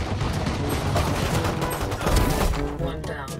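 Rapid bursts of gunshots crackle loud and close in a dense, continuous volley, with a voice talking over the firing.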